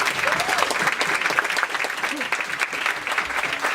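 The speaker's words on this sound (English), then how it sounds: "So first I want to ask for a round of applause again for all of you." A conference audience bursts into dense, sustained applause, many hands clapping together in an even roar that fills the room, with a few faint voices under it.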